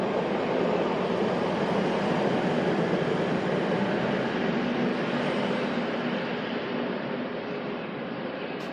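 Train 185.121 sits and rumbles at the far end of Salford Central station, a steady broad engine drone that holds constant and fades slightly at the end.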